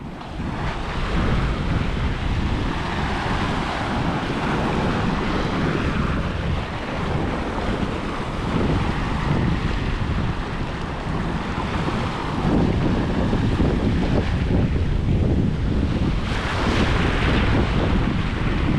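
Strong amihan monsoon wind blows by a river in a continuous, roaring rush that buffets the microphone, a steady broadband whoosh lasting throughout with slight swells.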